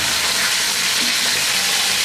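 Bele fish frying in hot oil for a Bangladeshi recipe, a loud, dense, continuous sizzle heard up close for a couple of seconds with no talking.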